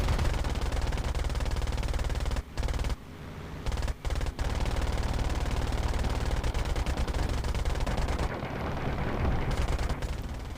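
Aircraft machine gun fire in War Thunder Mobile, a loud dense continuous rattle of rapid shots with a few brief pauses between long bursts.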